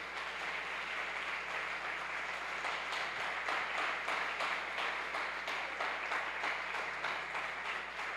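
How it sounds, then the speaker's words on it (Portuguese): A church congregation at a deliverance and healing seminar applauds, a faint, sustained roar of many hands clapping with a low steady hum underneath and no talk over it. "Você pode dar uma salva de palmas ao Senhor?"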